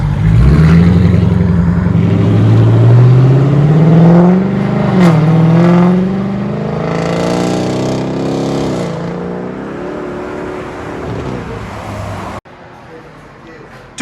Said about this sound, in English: Chrysler 300S. It's got factory catalytic converters, factory X-pipe, and we did a mid muffler delete right there.